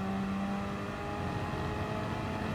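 Race car engines in Gran Turismo Sport during a Gr.4 race at Dragon Trail Gardens II, chasing a Lexus. A steady, droning engine whine holds at an even level throughout.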